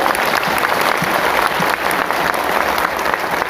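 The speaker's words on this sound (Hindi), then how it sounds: "तो अश्विनी वैष्णव जी के लिए भी जोरदार ताली बजा दो भाई" A large audience at an All India SC/ST Railway Employees Association gathering claps loudly and steadily, a dense, close, continuous wash of applause with no break.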